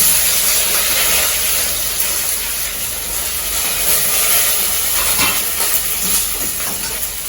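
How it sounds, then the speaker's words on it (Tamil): Onion sautéing in a pan for a brinjal-mango sambar: a constant, loud, even sizzle with faint crackles and no talking. "இந்த வெங்காயம் வதங்கிட்டே இருக்கு"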